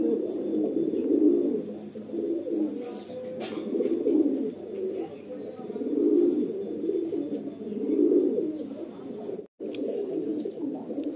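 Several caged pigeons coo in a steady, rolling chorus, the low throaty calls rising and falling in repeated swells with a brief break near the end.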